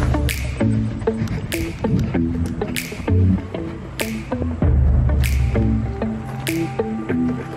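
Water from a pond top-off line on a pondless waterfall build splashes and drips in an uneven, wet rhythm, with irregular squishy spurts standing out close and fairly loud.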